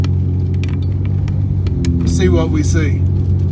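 A car rolls along Pearl Street in downtown Jackson, Mississippi, its engine and road rumble a steady low drone throughout, with a person speaking briefly over it.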